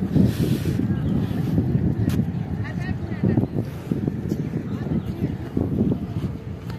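A passenger ferry launch pulls away on a river, giving a steady low engine and water rumble mixed with gusty wind buffeting the microphone for the whole stretch, with murmured voices nearby.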